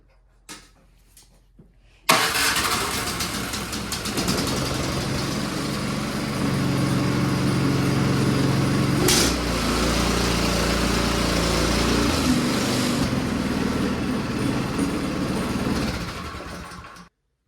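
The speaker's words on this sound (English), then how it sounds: "we're going to try our electric start since it got replaced" After a few quiet clicks, a Yard Machines Powermore snow blower engine cranks on its replaced electric starter and catches, then runs steadily at a loud idle before cutting off abruptly.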